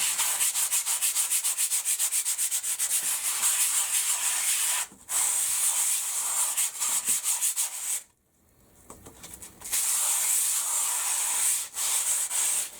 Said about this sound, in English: going to give this a light sand